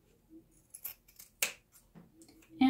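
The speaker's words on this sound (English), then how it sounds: "we are just going to trim off all of this extra." Scissors snip through excess fabric while a garment is being sewn, a few quiet, crisp cuts spaced irregularly with a sharper closing snip near the end, heard up close with no talking.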